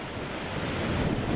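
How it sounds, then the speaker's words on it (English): Steady wind roars across a mountainside on Grandfather Mountain during a spell of intermittent rain, buffeting the microphone with constant broadband rumble and no break. "it is still windy and intermittent rain at the moment"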